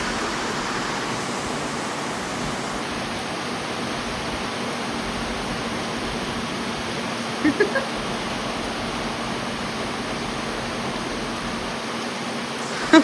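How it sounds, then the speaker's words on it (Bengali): Heavy rain falls on and around a sixth-floor rooftop in Diamond Harbour, a broad, steady roaring wash of water with wind, constant and enveloping, with a faint tone and a couple of brief knocks near the end. "পুরো জোরে বৃষ্টি এসে গেছে"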